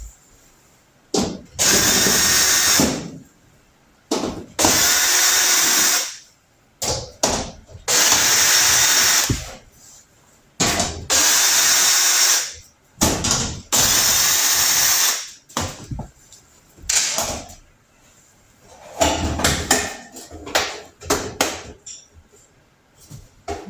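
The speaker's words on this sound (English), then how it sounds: "I'll take all the screws out for this back panel." A power drill repeatedly whirs in short, loud bursts as screws are backed out of the rear panel of a GE range, with brief pauses and light clanks between each screw.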